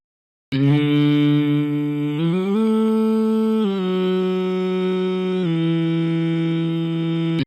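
A sustained vocal line processed with Auto-Tune set to D major, its pitch snapping cleanly between a few held notes in a steady, loud, unaccompanied take lasting several seconds.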